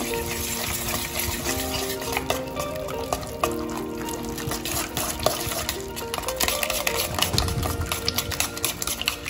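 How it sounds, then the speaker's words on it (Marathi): Chakka mixture for fruit shrikhand is whisked steadily in a bowl, a continuous wet stirring and rapid tapping at close range with no talk over it. "इथं आता आपल्याला हे मिश्रण एकजीव होईपर्यंत फेटून घ्यायचं आहे"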